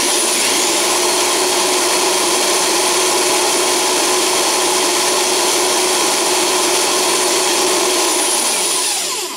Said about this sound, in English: For reference, this electric drill runs at,